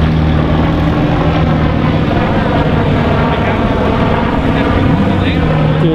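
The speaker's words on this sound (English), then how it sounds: "Got the helicopters in here too." Helicopters making low flybys over an outdoor Porsche cars-and-coffee meet in Santa Clarita, a steady loud rotor and engine drone filling the whole stretch, with people talking nearby.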